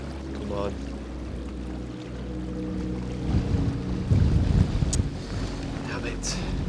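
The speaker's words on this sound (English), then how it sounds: "wait for the wind to calm down." Wind buffets the microphone with low rumbling gusts that swell louder midway, over an outdoor background near water.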